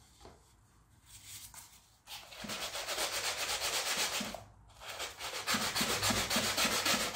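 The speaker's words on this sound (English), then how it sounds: "I'm just going to rub the surface on a bit of sandpaper" A glued object's surface is rubbed back and forth on sandpaper to roughen it, producing close, rhythmic rasping strokes in two long bursts separated by brief pauses.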